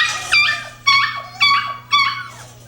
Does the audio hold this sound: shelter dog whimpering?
yes